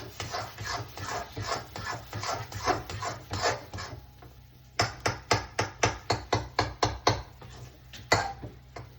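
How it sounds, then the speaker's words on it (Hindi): Sweet potato halwa with ghee is stirred in a pan over low heat, with a spoon scraping the bottom in rhythmic strokes that come faster and sharper in the second half. "अब आप आंच कम कर लोगे और फिर से इसको अच्छी तरह नीचे नहीं लगने देना है, बिल्कुल भी चलाते रहना है।"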